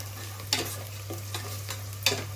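Onions frying in a pan for a boti curry, a soft continuous sizzle with a few quick stirring scrapes at a steady pace, close up, over a low electrical hum.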